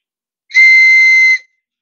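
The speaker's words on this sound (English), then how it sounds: "pretty little wings, and he whistles." A ceramic bird-shaped water whistle blown in one steady, clear tone lasting just under a second, loud and close, with no talking around it.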